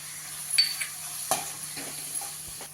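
Green chili and garlic thecha being sautéed in a pan, with faint sizzling under a few soft stirring scrapes and spoon taps, quiet and close.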